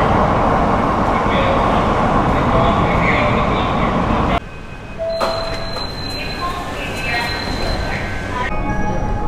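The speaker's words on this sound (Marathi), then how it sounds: "हे बघा मेट्रो आली आपली" Underground metro train in Mumbai pulling into the station, a loud rumbling roar that cuts off abruptly partway through, followed by quieter hum, high electronic tones and station ambience, with a voice speaking over it.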